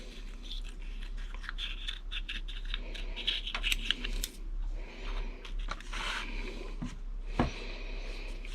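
Scissors snipping open the leathery shells of a clutch of black pastel clown ball python eggs, a run of close crisp cuts and scratchy crunches, no talking.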